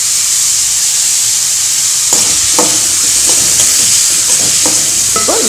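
Chopped chayote tipped into a pan of sautéed onions and stirred, a steady close sizzle with soft spoon scrapes and clicks picking up after the first couple of seconds.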